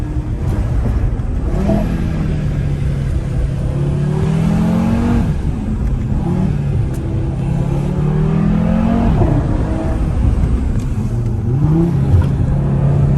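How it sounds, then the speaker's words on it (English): A 2021 Audi TT RS engine drones and revs steadily while driving, its pitch rising and falling repeatedly under constant road rumble, close and loud throughout. "First drive in the Audi TT RS. Sounds so cool."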